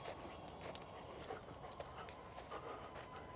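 Blue, a dog out on a walk, pants in quick, steady breaths. The sound is faint and soft against an outdoor background, with no talking.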